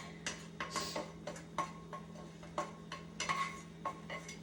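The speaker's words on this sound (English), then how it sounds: "I'm going to stir in the veggies" A utensil scrapes and taps against a pan as vegetables are stirred for an omelet, producing a steady series of light clinks and scrapes close by over a low constant hum.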